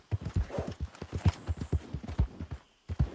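Rapid, rhythmic hoofbeats of a horse galloping in the video game Red Dead Redemption 2, a steady close clip-clop that pauses briefly near the end.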